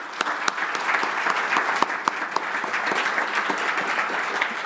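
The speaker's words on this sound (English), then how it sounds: "So please, a big applause for him." An audience applauding Professor Damodaran at a university talk: dense, steady clapping from a crowd indoors, even in loudness throughout the short stretch.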